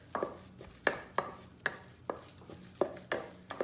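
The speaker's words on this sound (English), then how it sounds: "I'm just gonna mix it up with our meat separator" Ground meat for burgers is mixed with a plastic meat separator tool in a bowl, giving about ten sharp, evenly spaced taps and scrapes, close and fairly loud, with no talk.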